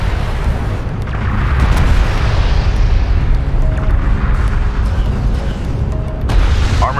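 Explosive fire pounds a railgun during a battle in Homeworld: Deserts of Kharak, a dense, loud, sustained rumble of overlapping booms that rolls on for the whole stretch with no clear pauses.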